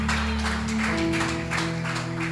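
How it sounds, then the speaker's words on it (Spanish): A church congregation applauds, a sustained wash of clapping mixed with sustained instrumental tones underneath, steady and fairly close. "¿Cuánto le da un aplauso al Señor?"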